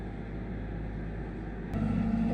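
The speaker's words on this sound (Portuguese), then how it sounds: "o trator passou bem aqui na minha porta" Broadband engine rumble of a tractor passing close by a house door, steady then swelling louder near the end as it goes by; no talking.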